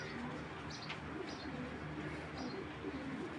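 Pigeons coo softly in the background, a few low murmuring calls with faint chirps over a steady ambient hiss.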